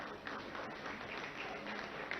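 Audience applause at an inauguration ceremony for a mould shop and dual education centre, a steady dense patter of many hands clapping throughout, moderately distant and even in level.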